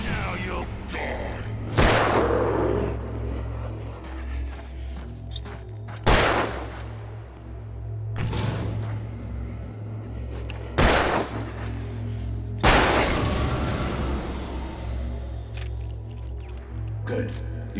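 Gunfire in the video game Alan Wake Remastered, a handful of sharp, loud shots spaced several seconds apart over a low droning game ambience, with voices talking in between.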